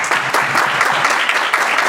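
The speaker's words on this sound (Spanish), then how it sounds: "Un aplauso" Audience at a music creation and culture talk series applauding steadily and loudly, a dense wash of many hands clapping close by for about two seconds with no talk over it.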